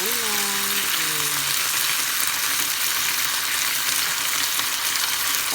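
Pork roll and vegetables frying in a small amount of sesame oil, a loud, steady hiss and sizzle throughout, with a brief voice at the very start.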